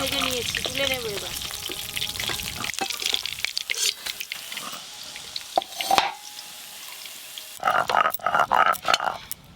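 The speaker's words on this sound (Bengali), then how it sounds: "সব মাছ ভালো করে ভেজে নিয়েছি, তুলে নেব এবার।" Pieces of fish fry in oil in a home kitchen, a sizzle mixed with clinks of a utensil, splashy taps and some vocal-like tones, uneven and close, fading midway before louder clatter returns.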